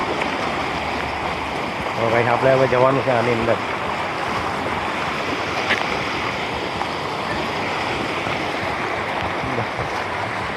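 Floodwater rushing steadily through a flooded street in Somnath Society after heavy rain, a continuous broad wash of moving water throughout, with a voice speaking briefly over it near the start.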